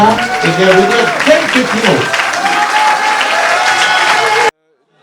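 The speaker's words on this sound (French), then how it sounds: "de nombreuses personnalités ont fait l'inauguration en découpant le ruban sous les applaudissements nourris des convives" Guests at a ribbon-cutting inauguration for the reopening of the Président Cantonese restaurant in Paris applaud heavily, a dense, steady wash of clapping with voices mixed in that stops abruptly near the end.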